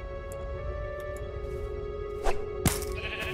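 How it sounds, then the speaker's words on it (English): A sheep bleating as it emerges from a thrown spawn egg in Minecraft Story Mode, one short bleat followed by a sharp burst, over steady tonal game ambience. "A sheep?"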